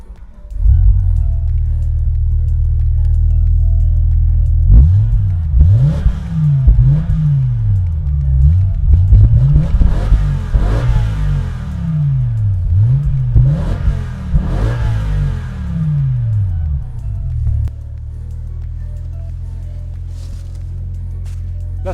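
A BMW M5 E60 with its V10 engine fires up and revs hard in a sequence of loud, rising and falling sweeps, close and prominent, then settles into a steady idle at the end.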